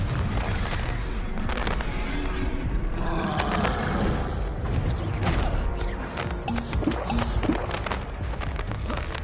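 Confringo fire spell blasting in a Harry Potter-style PS4 game, a loud, roaring rumble with crackling bursts that sustains throughout, mixed with game sound effects.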